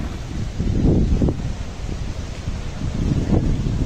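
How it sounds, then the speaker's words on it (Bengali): Strong wind blows at Patenga sea beach beside a rough, high-wave sea, a continuous low roar buffeting the microphone in heavy gusts, with no voices. "খুবই বাতাস এই পতেঙ্গা সি বিচে।"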